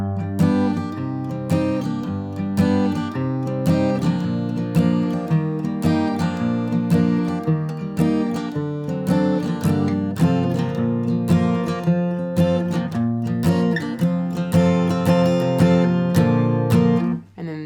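Guitar strumming a song's pre-chorus chords, rhythmic strummed chords with sharp upstroke accents played close and loud, ending in a brief drop.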